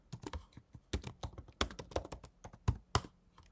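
Someone types code on a computer keyboard in a quick, uneven burst of sharp, close key clicks, with a few louder strikes and no voice.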